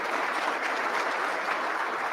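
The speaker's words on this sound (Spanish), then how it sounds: "Fuerte los aplausos para Sergio." An audience at a teachers' vocational-training congress in Guatemala applauds a speaker named Sergio: steady, dense clapping from a large room, even in loudness from start to finish, with no voices over it.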